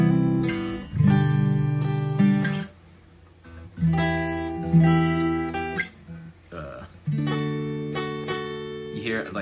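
Guitar strumming full chords of a song, ringing out in three bursts of sustained chords separated by brief pauses, played alone and up close.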